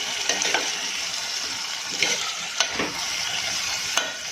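Cowpeas and potatoes cooking in a pan over medium gas after water is added give a steady, close sizzle, broken by a few sharp stirring clicks.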